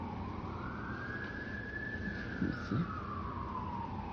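An emergency vehicle siren wails in a slow rising and falling sweep, fairly distant under steady traffic noise outdoors, with a brief voice.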